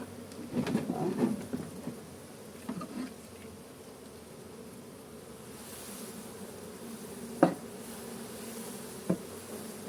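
A faint buzzing hum of bees runs under quiet background noise during a swarm transfer from a bait box, with a few soft knocks and taps scattered through.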